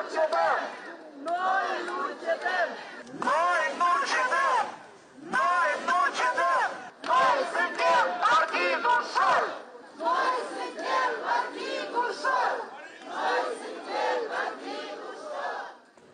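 A protest crowd outside the court chanting loud rhythmic slogans in repeated bursts with short pauses between them, many voices together and fairly close.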